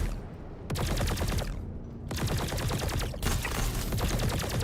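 Sniper rifle fire in the video game Star Citizen cracks out in loud, close bursts, separated by brief gaps, with no talking.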